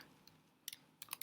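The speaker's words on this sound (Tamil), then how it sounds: "டைப் பண்ணி லாகின் பண்ணிக்கலாம்." Quiet computer keyboard typing for a WordPress login: a few scattered soft key clicks, then short clustered taps near the end.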